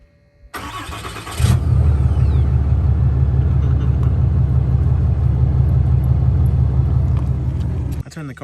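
A Ram 2500 Limited Longhorn 4x4 with a Cummins diesel engine starts by remote, a brief cranking burst settling into a loud, steady low idle rumble that holds for several seconds before cutting off.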